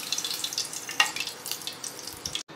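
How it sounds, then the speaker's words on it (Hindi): Onion pakoras fry in hot oil, North Indian style, with a steady close crackle and sizzle and small popping bursts throughout. "तो अब इसको हल्का सा ढक के इसको फ्राई कर लीजिए"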